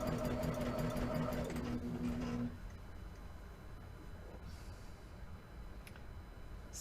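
Sewing machine running steadily as it stitches a quilt seam at a quarter-inch allowance, a loud continuous motor hum for the first two and a half seconds, then stopping to a quieter background with faint handling sounds.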